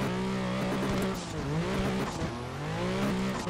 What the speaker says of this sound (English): Yeah, this car is so loud.